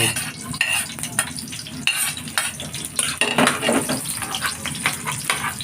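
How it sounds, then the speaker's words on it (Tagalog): Onion sautéing in a pan sizzles steadily while a utensil stirs and scrapes in repeated bursts, close and moderately loud, with no talk. "Yan, ginigisa ko yung bawang. Ay, sibuyas."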